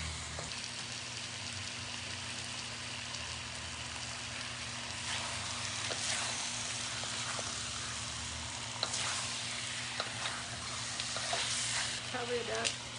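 Chicken with holy basil and lemongrass fries on a stove over high heat, giving a continuous close sizzle with scattered crackles and a few clinks and scrapes of stirring toward the end.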